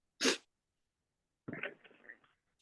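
A single sharp sneeze close by in a classroom, followed after a pause by a short stretch of quiet, muffled sound.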